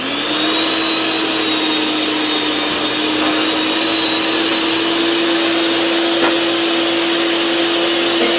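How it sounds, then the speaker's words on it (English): Electric mixer whirring steadily as it beats butter for buttercream frosting, a loud, close, continuous motor drone with no voices over it. "I'm going to go ahead and mix the butter"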